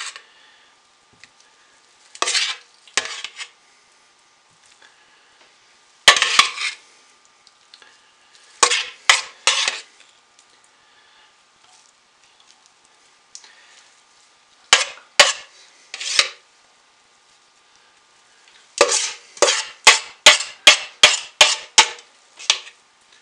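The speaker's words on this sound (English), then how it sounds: "On top of that, I am going to spoon it in. And just sort of plop." Thick soap batter is spooned into a mold, with soft wet plops and scrapes coming in scattered clusters separated by quiet gaps, and a quick run of plops near the end.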